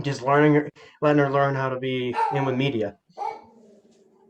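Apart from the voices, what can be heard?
dog barking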